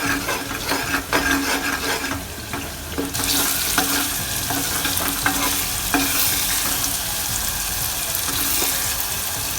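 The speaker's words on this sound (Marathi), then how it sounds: "ही पेस्ट तेलामध्ये व्यवस्थित होऊ द्यायची आहे।" Spice paste frying in oil in a pan for a Vidarbha-style aloo bonda curry, a continuous sizzle that swells louder partway through, with intermittent spoon scrapes and stirs, close and without speech.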